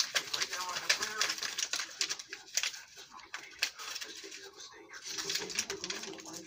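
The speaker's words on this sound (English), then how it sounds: "I'm going to tape it together" Tape being pulled and pressed to mend a torn BB gun box: crackly, ripping bursts and rustling handling noises, close and uneven, mixed with a person talking.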